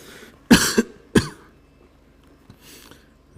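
A person with a cold coughs in two harsh bursts close by, followed by a softer throat clearing in a quiet room.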